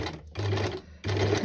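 An old-fashioned sewing machine stitches in two close, loud bursts of rapid mechanical whirring separated by a short pause.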